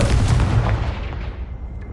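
A fiery Confringo spell explodes in the Hogwarts Legacy video game, a loud, heavy boom with a deep rumbling body that decays over about two seconds, heard alone with no talk.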